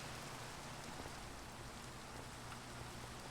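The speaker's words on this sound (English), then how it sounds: "Just a lot of freaking rain" Steady, heavy rain falls outdoors in Massachusetts, a continuous even hiss of drops hitting surfaces with no pauses or voices.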